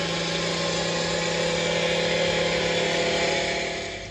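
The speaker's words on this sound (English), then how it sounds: "I'm just gonna work my way around welding all these fronts" Welding lead roof flashing fronts on a low-level slate roof over a BBQ area, a loud, steady roaring hiss with a constant hum that tapers off at the end.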